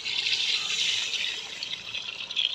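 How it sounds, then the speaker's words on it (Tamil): Water is poured from a measure into a cooking pot for rice, a continuous bright splashing stream that stays steady throughout, close and alone without talk. "தண்ணி அளந்து வச்சுருக்குறோம் கரெக்டாக பார்த்து ஊற்றிக்கலாம்"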